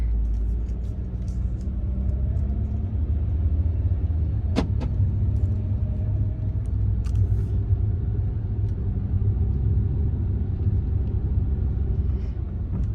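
A car rumbles steadily close by as it pulls away from a house, with a continuous low engine and road drone throughout and a brief sharper mechanical squeak partway through.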